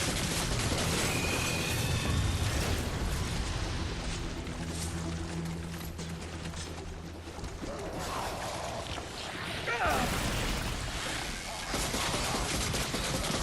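An automated turret fires during a fight in the video game Remnant: From The Ashes. Dense, rattling bursts of gunfire mix with mechanical clanks and creaks over a noisy battle backdrop, loud and sustained with brief lulls.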